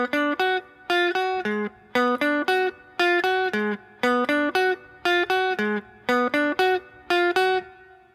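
A clean electric guitar plays a short melodic riff from a song one note at a time, repeating the same phrase in a steady rhythm with brief pauses.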